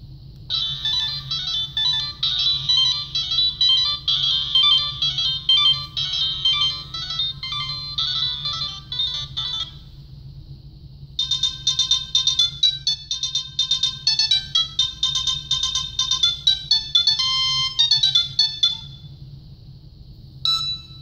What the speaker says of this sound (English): Now let's check out the ringtones on here.